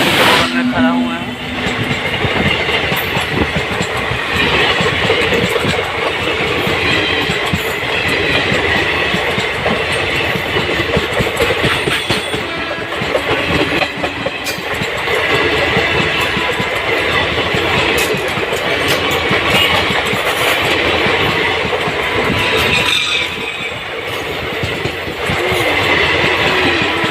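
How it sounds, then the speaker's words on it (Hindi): A train rolls past close by near the Ganga bridge, a loud, continuous rumble with rhythmic clickety-clack of wagons over the rails that holds steady for the whole stretch. "देखो ट्रेन आ गया"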